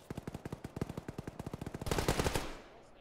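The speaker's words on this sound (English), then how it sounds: "Where was that shooting from?" Rapid automatic gunfire in the Arma military video game, a steady string of about twenty sharp shots followed by a heavier, echoing burst that trails off, moderately loud and with no talking.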